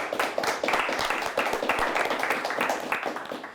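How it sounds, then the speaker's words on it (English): Clapping from a studio audience rewards a high school quiz team after a close game, a brief dense patter of many hands at moderate loudness with no talking. "Let's give Onaway a nice round of applause as well"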